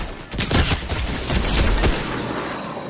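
Rapid bursts of gunfire crackle through a shooting video game match, several sharp shots in quick succession over a dense, noisy background.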